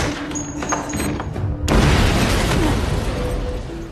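A bomb goes off in a courtroom in the 2023 action film Breakout: thin, tense sounds give way to a sudden loud boom that leaves a heavy, rumbling roar lingering to the end.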